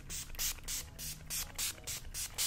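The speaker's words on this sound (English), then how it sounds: "and I'm going to spritz my face." Rapid spritzes of makeup setting spray onto a face, about eight short hissing bursts in a quick steady rhythm, close and fairly quiet.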